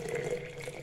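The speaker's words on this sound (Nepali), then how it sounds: "मैले उम्लेको पानी राख्न चाहँदैछु" Boiling water is poured into a thermos holding amla, making a brief, soft, steady liquid rush that stays faint and close throughout.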